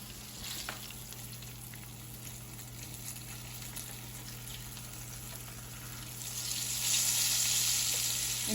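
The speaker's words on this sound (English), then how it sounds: "you'll hear the sizzling once you drop your oil in the fish" Gluten-free breaded fish sizzles steadily in hot frying oil, a continuous close crackle that swells louder near the end, with no talking.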